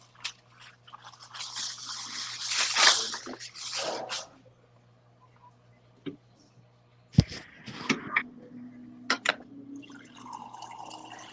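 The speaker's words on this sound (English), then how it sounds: "That's water from the refrigerator" Water runs from a refrigerator dispenser into a quart jar, a fairly loud pouring rush for a few seconds, followed by quieter clicks and clatter with some voices in the background.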